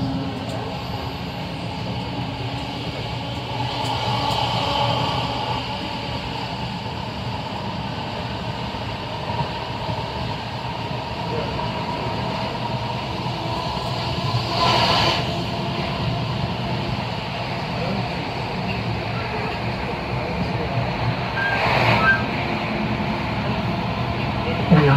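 A Class 323 EMU electric train runs on rails between Birmingham New Street and Bromsgrove, giving a steady droning rumble heard from on board, with occasional faint rattles and swells.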